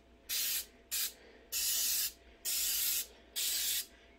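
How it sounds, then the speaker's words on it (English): Five short bursts of cooking spray hissing onto silicone muffin liners, each lasting about half a second with brief pauses between, close and fairly loud. "I'm just going to spray the little liners"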